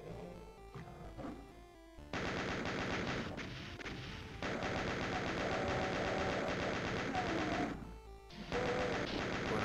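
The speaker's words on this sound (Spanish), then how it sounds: "Tengo una escopeta" Shotgun blasts and combat noise in the video game Doom during a refinery level: dense, loud bursts of gunfire and crashing effects fill most of the stretch, broken by a couple of brief lulls.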